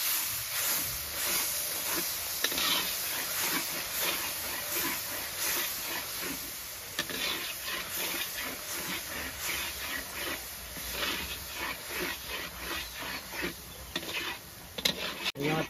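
Onion, ginger, garlic and green chilli frying in a pan for a chicken skin dish, a steady close sizzle with a rasping, scraping texture, as though being stirred, and no talking throughout.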